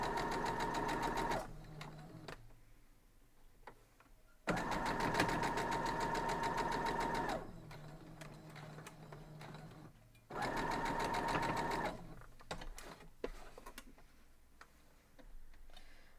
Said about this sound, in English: Now we'll go sew this up.